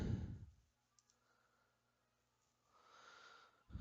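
A quick shuffle of a deck of game cards during a tabletop card game, soft riffling clicks and brushing at close range with short bursts at the start and end and quiet rustling between.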